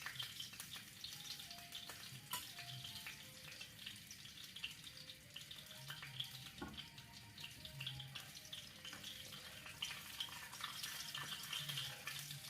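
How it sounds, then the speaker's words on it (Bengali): Panch phoron and broken bay leaf frying in oil during the cooking of ginger carp, a soft steady sizzle with faint clinks, quiet and continuous throughout. "5 ফোড়নটা ভাজা ভাজা হয়ে গেলে"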